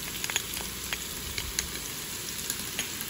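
Three large cloves of minced garlic sizzling in melted butter inside a Ninja Foodi pot for chicken marsala, a continuous close crackle with small pops throughout.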